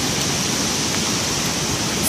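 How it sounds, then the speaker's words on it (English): Steady, full rush of water at the top of a secondary waterfall, heard close and constant throughout, with no voices. "So this is the top of the secondary waterfall, I'll call it."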